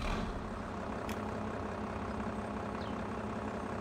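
A tractor engine idles steadily in the Farming Simulator 22 farming game, a continuous low diesel rumble heard alone at moderate level with a brief click partway through.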